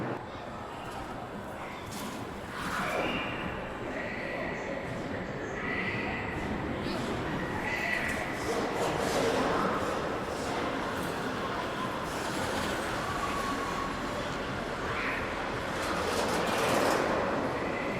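A ride on the El Loco roller coaster at the Adventuredome indoor park: a continuous loud rumble and rattle of the cars on the track, with faint voices mixed in throughout.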